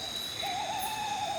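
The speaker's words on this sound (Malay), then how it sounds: "bunyi burung hantu kat sini." An owl hoots near an old village road at night in rural Malaysia, one faint, drawn-out, slightly wavering call set against a quiet background hum.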